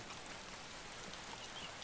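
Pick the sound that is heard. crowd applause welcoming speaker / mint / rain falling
rain falling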